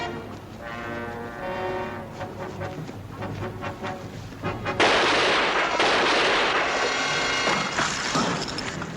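Gunfire in a war drama, heavy booming blasts with a harsh, roaring, noisy burst partway through, loud and dense, with no talking.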